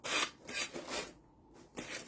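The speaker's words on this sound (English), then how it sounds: "I'm just going to knock this off. Very cautious with the sanding brick, hopefully." A few close, rasping strokes of a sanding brick scrape back and forth in quick bursts, with short pauses between them.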